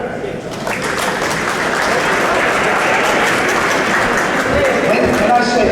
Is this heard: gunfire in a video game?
no